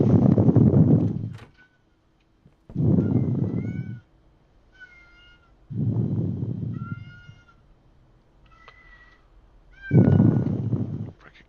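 A cat meows several times in short, rising calls, separated by loud bursts of rough rustling or scraping noise close by.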